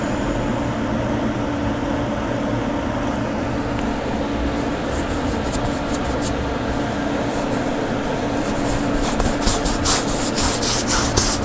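A thick-bristled brush about 1.5 inches wide rubs thin glycerin over a painting's surface, giving a steady close scratchy swishing with no pauses and a few brighter strokes near the end.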